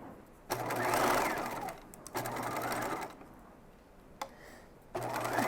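A sewing machine stitches a dress seam in bursts of steady whirring, three longer runs broken by brief pauses, then a fourth starting, close and clear.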